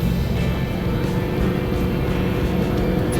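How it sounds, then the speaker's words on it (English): A combine harvester engine revs down while harvesting corn, a steady loud low rumble with a continuous drone and no speech. "So I'll come to a stop here on the end. I'll rev her down"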